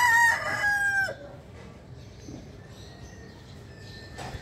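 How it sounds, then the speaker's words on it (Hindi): A rooster on a home farm crows once, loud and close, in a strained, drawn-out call lasting about a second at the start, then faint farmyard background remains. "मुर्गे ने आवाज गाइस निकाली है"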